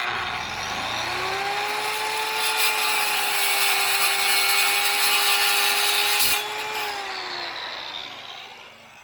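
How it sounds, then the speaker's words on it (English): A power tool cuts through aluminum sheet metal for a treehouse roof, a sustained close whining tone that holds steady for several seconds and then winds down. "So I got this aluminum, so I'm going to cut it and clamp it and tap them."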